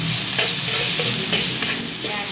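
Ginger frying in hot oil in a pan, a loud, steady crackling sizzle up close with brief surges as pieces shift.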